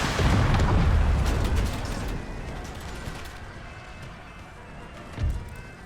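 Pistol volley fire in Empire: Total War as Ottoman troops fire on an approaching enemy, a loud crackling, booming burst at the start that fades into rumbling battle noise, with another thump near the end.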